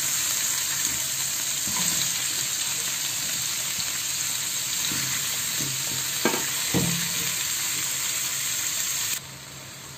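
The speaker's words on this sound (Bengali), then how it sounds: "এবার দেব পেঁয়াজ কুচি।" Chopped onion fries in a pan, a constant close sizzle with several louder stirring scrapes in the middle, the sound dropping suddenly at the very end; no talking.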